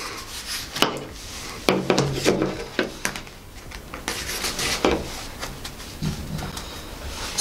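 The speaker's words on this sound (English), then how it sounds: "let's put these cards in" Plastic cards slide into a wallet that hides a knife, giving scraping rubs and soft clicks, close and fairly quiet, in a few separate bursts with pauses between them.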